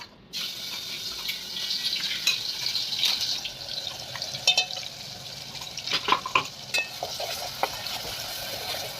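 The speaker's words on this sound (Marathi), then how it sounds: "याच्यामध्ये पेस्ट केलेली टाकते मिरचीची" Ground green chilli paste hits hot peanut oil for a fasting chutney, producing a hissing sizzle with scattered spoon scrapes and wet crackles that grow busier toward the end, close by and moderately loud.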